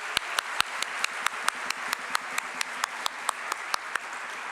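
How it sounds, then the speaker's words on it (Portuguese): Rhythmic audience applause at a liberty forum panel in Brazil, sharp, evenly spaced claps in a steady unison beat over a softer bed of scattered clapping. "uma salva de palmas para o Salo."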